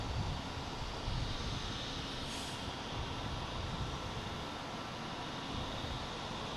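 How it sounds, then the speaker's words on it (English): A Swiss Airbus A330-300 arriving from Zurich at Boston Logan, its engines producing a continuous broad roar that holds steady and slightly eases toward the end, with no voices. "Here's Swiss coming from Zurich in A330 300 flight 52."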